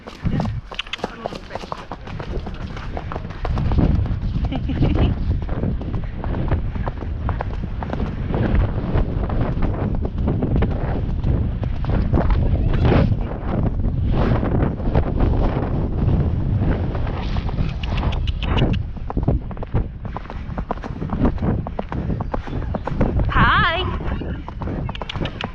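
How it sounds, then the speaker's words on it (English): A horse cantering on a ridden outing, its hooves giving a rapid rhythmic clip-clop under heavy wind noise from a helmet-mounted camera, with a rider's voice heard at times. "Let's see if we can have a little canter side by side."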